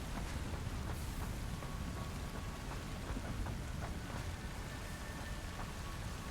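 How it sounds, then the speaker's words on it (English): Steady rain falls in the Satisfactory video game, a dense continuous hiss of drops on surfaces with faint rumbles that could be distant thunder, constant and unbroken throughout. "it's raining cats and dogs"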